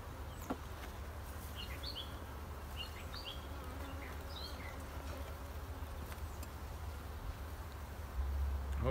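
Honey bees buzz around an open beehive whose brood and honey supers are filling, a dense steady drone up close with a few birds chirping faintly in the distance.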